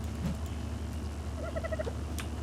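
A chicken clucks in a video game, a short run of repeated bird calls in the middle, fairly close, over a steady low background hum.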